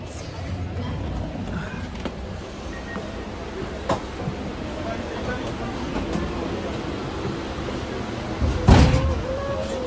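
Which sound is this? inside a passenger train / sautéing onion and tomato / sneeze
inside a passenger train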